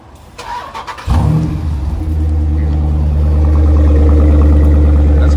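Jeep SRT engine with stock exhaust starts up after a moment of handling noise, then settles into a loud, steady, deep idle rumble close by.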